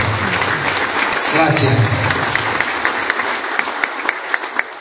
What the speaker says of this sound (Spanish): Fuertes, fuertes palmas al Todopoderoso, por favor.